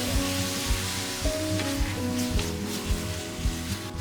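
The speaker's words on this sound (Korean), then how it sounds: "뜨겁게 달군 다음에 이 양념한 쇠고기를 바로 이 팬에다가 쏟을 거예요." Seasoned beef strips hiss and sizzle in a very hot pan, a steady close, dense frying crackle with intermittent pops and faint clinks throughout.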